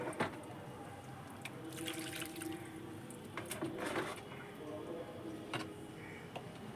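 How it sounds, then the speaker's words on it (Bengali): Water drains out through the drainage holes of a pot of soaked, muddy soil sown with onion seeds, giving a steady wet trickle with scattered drips and faint ticks, fairly quiet and close, with no talking. "আমার ড্রেনেজ সিস্টেম দিয়ে জলটা বেরিয়ে যাচ্ছে"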